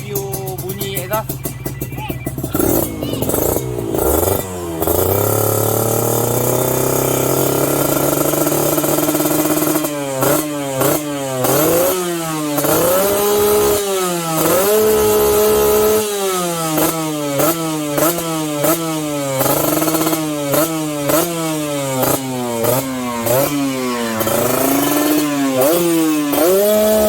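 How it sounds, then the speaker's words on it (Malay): A Yamaha RR150 motorcycle engine with a 37-tooth sprocket idles roughly, then revs repeatedly in sharp bursts, exhaust rising and falling in pitch, loud and close. "Kita nak review bunyi exhaust."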